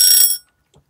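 A craft room timer alarm rings in a short, loud, shrill electronic burst that cuts off abruptly, followed by a faint click.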